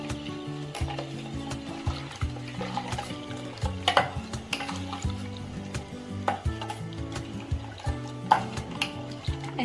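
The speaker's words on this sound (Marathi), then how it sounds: "ह्याला चांगलं मिक्स करून घेऊया. तर मसाल्याच्या गाठी राहतात तर त्या चांगल्या मोडून घेऊया" A spoon stirs a dry spice mix for pani puri, breaking up lumps with steady scraping and tapping strokes against the bowl, close and moderately loud, with no talking.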